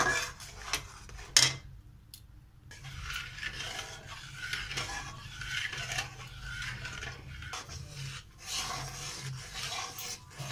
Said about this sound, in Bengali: এরকম আস্তে আস্তে ভালো করে নেড়ে চেড়ে ডোটাকে বানিয়ে নিতে হবে।